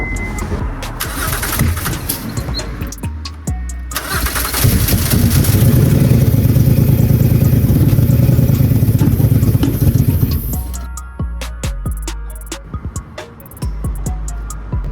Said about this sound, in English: It'll prime a little bit, make a little bit of noise, and that's how you know that fuel is starting to move. This is what it sounds like coming from the fuel pump.